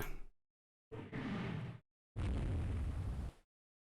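Naval gunfire and exploding shells from the video game Rule the Waves 3 boom out as three separate loud blasts, a short one followed by two longer rumbling bursts, separated by silence.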